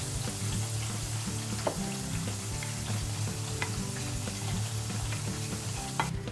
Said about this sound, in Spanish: Primero, freímos las patatas en un aceite que no esté muy caliente, porque más que freír se tienen que cocer.